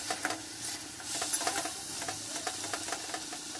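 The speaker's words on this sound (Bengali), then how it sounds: "তারপর সেগুলোকে আবার একটু কষিয়ে নেব ভালো করে" Pumpkin curry vegetables sautéed and stirred in a pan, with a steady soft sizzle broken by repeated scraping strokes of a spoon. The stirring sounds close, moderately loud and irregular, and no one speaks.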